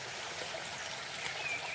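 A river flows through an ancient forest, a steady, even rush of water that stays constant throughout with no voices over it.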